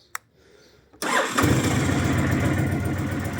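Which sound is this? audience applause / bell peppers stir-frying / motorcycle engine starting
motorcycle engine starting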